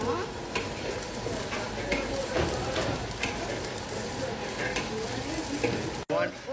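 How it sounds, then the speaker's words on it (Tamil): Tomatoes and chicken stir-fry in hot oil in a pan, a steady close sizzle with scraping stirring strokes throughout, briefly cut near the end. "இது நல்லா வதக்கணும் எண்ணெயில்."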